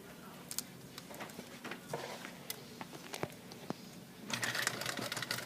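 Sewing machine stitching pillow squares together in a straight line, with soft irregular ticking and whirring bursts, close and quiet, ending in a faster, busier run of stitches.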